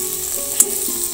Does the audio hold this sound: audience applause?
no